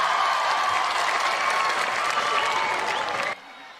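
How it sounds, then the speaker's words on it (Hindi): A live audience at a Hindi poetry gathering claps loudly and steadily in a dense, continuous wash of applause, which cuts off abruptly just before the end. "जितनी अच्छी आप ताली बजा रहे"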